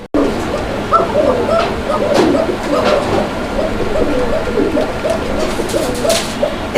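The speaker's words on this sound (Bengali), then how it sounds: "এত সুন্দর ডাকের একটা ককা মাশাল্লাহ অনেক চমৎকার ডাকে" A male pigeon coos repeatedly in soft, rhythmic bursts throughout, with a constant busy background of other birds.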